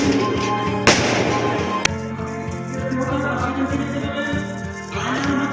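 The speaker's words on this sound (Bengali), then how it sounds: "ততক্ষণ বাজিগুলো ফোটানো যাবে।" Firecrackers set off at night in a village garden, two sharp bangs cracking out over a steady background drone, the rest a crackly wash of distant pops.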